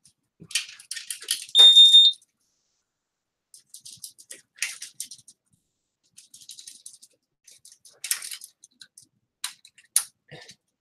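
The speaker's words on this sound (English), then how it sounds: "It's like the cold start pulsating beep, I guess you could call it." A fire alarm panel (5820-series) sounds its cold-start pulsating beep at power-up: bursts of high electronic beeping in irregular clusters, one longer loud tone near the start, with silent gaps between bursts and no talk.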